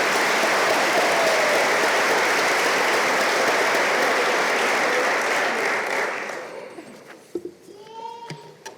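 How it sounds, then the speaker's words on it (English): Audience at an academic and leadership awards convocation gives a loud, full round of applause that fades out, followed by scattered sounds and a brief voice. "That's the best round of applause I've received."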